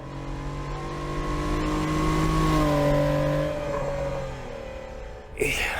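A race car engine in the Assetto Corsa driving game revs steadily higher through a lap, holding a strong droning tone before easing off, ending with a sharp thump.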